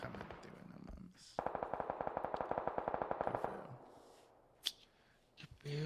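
M4 rifle fire in PUBG on Xbox Series X, a rapid sustained burst of about twenty closely spaced shots lasting roughly two seconds, followed by a faint lone shot, with no talk over it.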